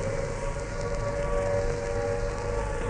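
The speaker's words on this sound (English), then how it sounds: "The noise that you hear at the moment is the sound of the air raid siren." An air raid siren over Trafalgar Square in London holds a steady, sustained wail above a low outdoor rumble, continuous and moderately loud with no voices.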